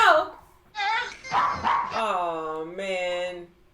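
In a TV show, a dog's sharp barks and whining yips come through close and loud, mixed in with excited voices.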